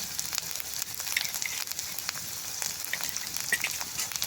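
Spice paste of turmeric and dry red chili powder sizzles and fries steadily in oil in a pan for a boal fish curry, a continuous close crackling hiss with small pops and no talk.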